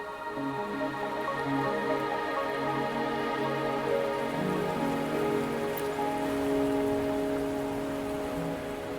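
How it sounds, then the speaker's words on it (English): Steady rain falls in the video game Wuthering Waves, a constant patter under sustained tonal music, with no talking. "Are you trapped here by the rain?"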